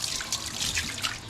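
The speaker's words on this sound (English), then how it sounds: "I'll give him a rinse off first." Tap water trickles steadily for about a second as a butchered chicken is rinsed at a sink, a close, continuous splashing wash.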